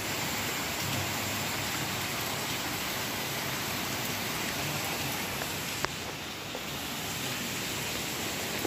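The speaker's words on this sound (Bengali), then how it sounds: "এত জোরে বৃষ্টি হচ্ছে।" Heavy rain pours down in Liluah, flooding the streets, in a dense, steady roar of hiss, unbroken for the whole stretch with no voices.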